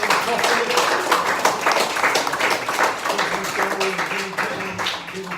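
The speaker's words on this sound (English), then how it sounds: "if we can have a big round of applause for volunteers" A round of applause for volunteers at a small community gathering, steady clapping from a modest group lasting several seconds, with talk and chatter mixed in beneath it.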